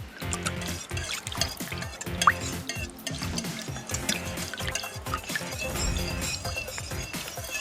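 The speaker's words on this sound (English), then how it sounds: "Now we're going to whisk this all together." Milk is whisked into a creamy chicken casserole mixture in a bowl, giving continuous wet sloshing and quick clattering strokes close up.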